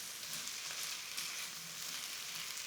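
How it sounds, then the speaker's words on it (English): Garam masala is stirred into a hot frying pan of chicken jalfrezi, and a steady, soft hiss of sizzling oil runs throughout with no voices. "So I'm just going to sprinkle in a teaspoon of garam masala, stir that through"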